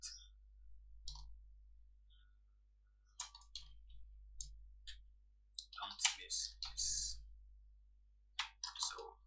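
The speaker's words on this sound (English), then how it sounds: "So let's just type it." Computer keyboard typing, bursts of close, crisp key clicks in uneven clusters over a low steady hum, quiet overall.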